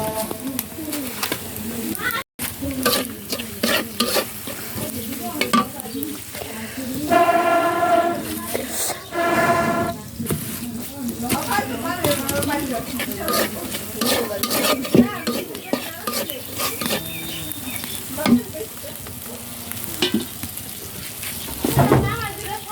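Food cooks on an outdoor clay stove fired with leaves, giving a steady crackle and stirring scrape close by while a dove coos in the background.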